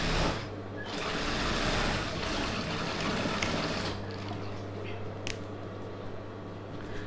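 A sewing machine stitches a Patiala pant, running in a steady continuous whir close by for most of the stretch before easing slightly, with a few light mechanical clicks near the end.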